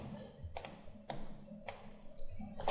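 A few light key presses on a computer keyboard while working in Inventor 3D CAD software, crisp isolated clicks spaced about half a second apart over quiet room noise, with no talking.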